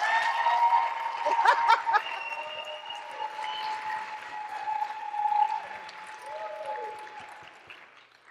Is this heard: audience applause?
yes